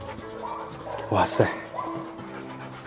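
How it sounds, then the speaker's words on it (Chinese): A dog yips and barks briefly in a village courtyard among old cave dwellings in Shaanxi. The short, moderately near barks come in a few bursts under a person's excited exclamation. "还有狗狗在叫。"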